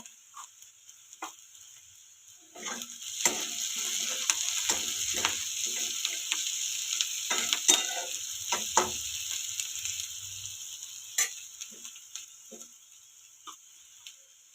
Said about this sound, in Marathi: राय टाकते थोडी जिरं थोडं टाकते